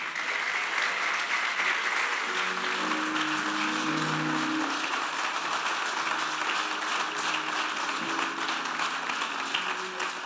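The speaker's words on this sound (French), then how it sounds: "Acclamez le Seigneur pour la vie du frère Jacques" A church congregation applauding together, sustained dense clapping that fills the room for about ten seconds, with faint voices and a few tonal sounds mixed in before the applause tapers slightly.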